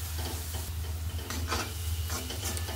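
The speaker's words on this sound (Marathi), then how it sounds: "आता याच्यामध्ये आपल्याला हळद, मिरची पावडर ते आपल्याला मिक्स करून घ्यायचे।" Chopped coriander with turmeric and chili powder is stirred in a pan, giving close scraping strokes over a continuous low sizzle with a background hum, and no talking.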